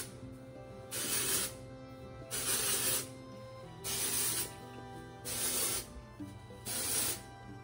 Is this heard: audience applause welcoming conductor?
no